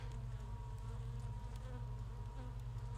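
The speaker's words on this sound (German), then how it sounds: "where have all these wretched bees come from?" A swarm of bees drones steadily in the Sherlock Holmes Crimes & Punishments video game, a continuous close buzzing hum with no pauses or speech.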